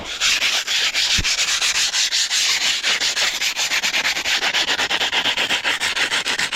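A surface is scrubbed before painting, a loud continuous rhythmic rasping of quick back-and-forth strokes, close up and steady with no talking.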